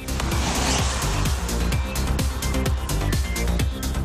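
The 177-horsepower 2.0-litre turbodiesel of a 2012 Audi A5 Sportback pulls strongly from low revs, a continuous, moderately loud drone with rhythmic pulsing and road noise inside the cabin, and no talking.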